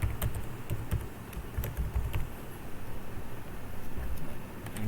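Fingers typing on a computer keyboard while entering a root password during a CentOS 7 Linux installation, a steady run of close, quick key clicks with no talking.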